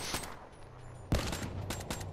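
Gunfire in Call of Duty Black Ops III: a single sharp shot early, then a loud burst of rapid automatic fire with several follow-up shots, close and dense over a low game hum.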